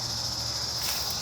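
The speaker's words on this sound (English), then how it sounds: "before these crazy crickets descend upon me, or whatever they are. They sound pretty weird." Steady high-pitched insect chirring, crickets or similar, fills a burned forest in the San Pedro National Conservation Area, a constant close drone with no pauses.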